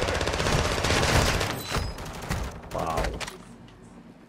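Heavy gunfire rattles in Warzone 2.0, loud overlapping bursts that fade after a few seconds, with a voice briefly reacting.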